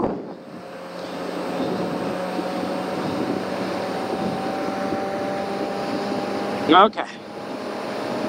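A Mazda Miata at full throttle on the Circuit of the Americas race track gives a steady, droning engine roar inside the car throughout, with one short word spoken near the end.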